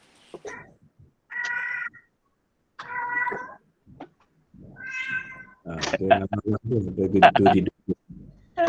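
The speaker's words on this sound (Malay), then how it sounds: "Kucing punya." A cat meows repeatedly, with several separate calls building into a longer, louder run of yowling toward the end, heard close and clear against a quiet background.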